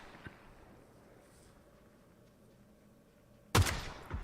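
A sniper rifle in a video game lands a headshot: one sudden, loud, sharp blast with a short decaying tail, following several seconds of quiet low background hum.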